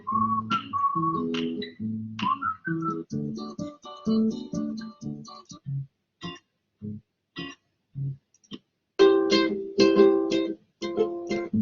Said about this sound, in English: I like the whistle better, so I'll stick with the whistle.